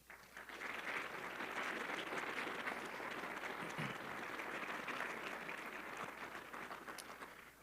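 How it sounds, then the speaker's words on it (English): Indoor audience at a Veterans Day program applauds a university wind symphony, a full steady round of clapping that rises quickly, holds for several seconds and tapers off, with a low hum beneath. "Please give a round of applause to our SUU Wind Symphony"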